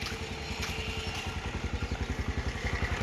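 A motorcycle engine running nearby, a steady low putter with rapid even pulses that grow slightly louder and more distinct toward the end, with no talk.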